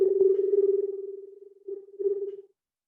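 A human voice mimics the screech owl's trill call as a long, steady, low rapidly pulsing tone lasting over two seconds with a slight break near the end, close and alone.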